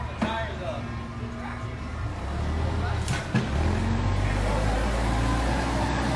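A megatruck spins its tires to heat them up, its engine droning low and then surging louder and deeper partway through and staying loud, while people talk over it nearby.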